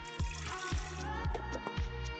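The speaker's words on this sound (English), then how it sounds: "About 2 cups water." About two cups of water poured into the pan while cooking Marry Me chicken, a close, continuous trickling pour with a few splashy bursts.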